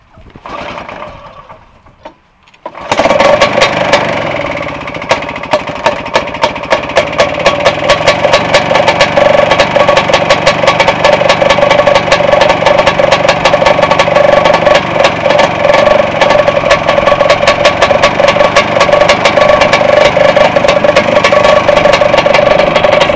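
A Snowbug Superbug snowmobile's small engine is pull-started and catches after a short quiet pause, then runs loud and close with a steady rapid rattling idle that continues without talk.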